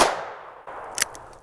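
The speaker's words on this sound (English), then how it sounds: "22 Magnum through a 16-inch Revolver." .22 Magnum round fired from a revolver with a 16-inch barrel at a shooting range: one sharp, bright crack, with a fading tail and a quieter click or clank after it.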